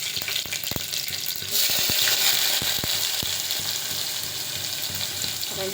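Onions sauté in hot oil with mustard seeds, cumin and garlic: a bright, continuous sizzle that swells briefly partway through, with scattered close clicks and knocks from stirring. No talking.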